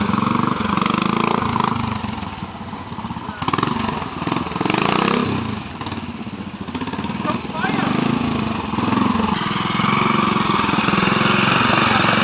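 A rigid-framed Royal Enfield motorcycle engine runs continuously at an off-road trials event at Hagg Farm, a loud, rough, pulsing thump that rises and falls with the throttle, close by and steady throughout.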